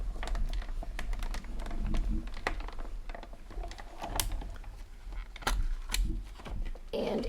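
A die-cutting machine runs a new cutting plate through designer-series border paper, giving a steady stream of close mechanical clicks and ratcheting ticks, with no talking.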